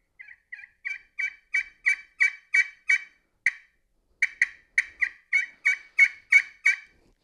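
A slate turkey call with a zebra wood crystal over aluminum surface gives a long run of close, loud yelps, first a few soft notes, then steady rhythmic clucks, a brief pause, and another rising series, with no talking.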